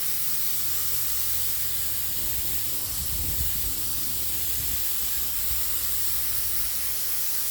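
A steady, loud hiss of compressed air blowing out of a glue spray gun nozzle to clear it, continuous for several seconds with no voices.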